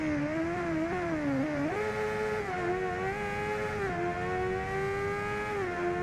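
Honda Hornet CB 600 or CB 900 motorcycle engine in a racing game, a steady loud engine drone that rises and dips in pitch with throttle changes, continuous with no talk over it.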